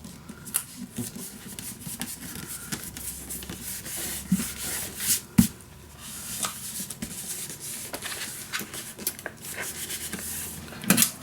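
Paper glued onto chipboard being burnished down by hand for a scrapbook mini album, soft, faint rubbing and scuffing strokes with scattered light taps, close and quiet, without speech.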